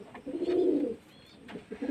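Pigeons kept at a home coo close by: a soft, throaty warble in two rounds with a brief pause between, and no voices over it.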